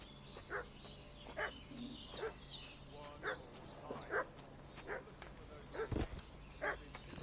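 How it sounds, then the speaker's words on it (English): A dog in the video game Kingdom Come: Deliverance 2 gives repeated short barks and yips at a steady rhythm, set against quiet ambient background noise. "What's that dog making such a fuss about?"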